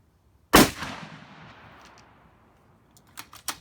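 A single loud, close gunshot fires a SlapShot mechanical adaptable projectile round at an outdoor test. A long echoing decay follows, then a few sharp mechanical clicks near the end.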